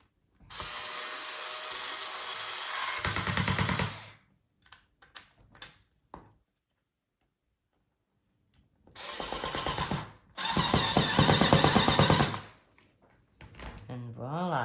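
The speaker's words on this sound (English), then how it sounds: "get your screwdrivers and screw your panel back in" A powered screwdriver drives screws back into a Vivint Smart Hub panel in several loud motor whirs, one long burst and then two more, separated by quiet gaps with small clicks of handling.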